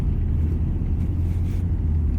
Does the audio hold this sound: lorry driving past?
yes